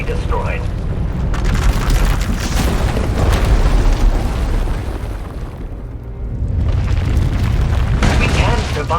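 A massive eruption explosion in Star Wars: The Old Republic rolls out as a deep, sustained rumbling boom with crackling bursts, easing briefly before surging again, with a voice talking over it.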